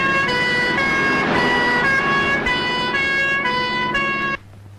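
An ambulance siren wails loud and near in a steady repeating two-tone pattern for over four seconds, then cuts off abruptly, leaving a low rumble.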